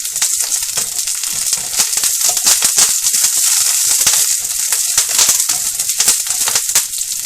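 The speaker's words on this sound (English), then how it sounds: "Now add half of curry leaves" Curry leaves sizzle in hot oil for a Mangalorean chicken curry (kori gassi). The sizzle is loud, close and steady for the whole stretch, with no voices.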